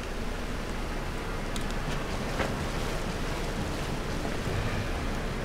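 Steady broadband wash of water waves and surf in the Five Nights at Freddy's Security Breach Ruin game, a continuous ocean-like roar with no talking.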